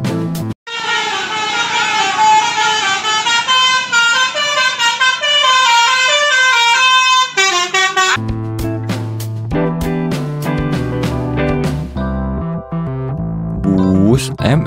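Musical telolet horns on Indonesian intercity buses play loud, sustained melodic tone sequences, giving way after a pause to a second set of shorter, punchier multi-note horn blasts in quick succession, with no voices heard.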